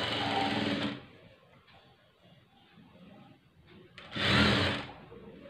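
A sewing machine stitches a blouse neckline in two loud bursts, one at the start and one near the end. Between them comes a quieter stretch of handling noise.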